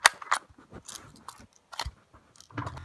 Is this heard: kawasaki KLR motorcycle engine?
no